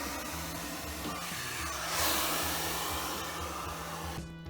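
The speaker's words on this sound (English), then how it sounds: "I kept the blow dryer running to make sure things could get as dry as possible" Blow dryer running steadily into the intercooler of a flooded Saab 9-5 Aero, a close, continuous whirring hiss with a low motor hum that swells briefly and then cuts off near the end.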